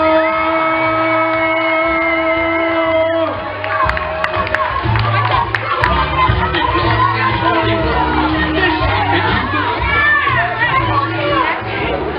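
An audience cheers and whoops for comedian Daniel Marks as he takes the stage, a loud sustained crowd roar with shouts over music.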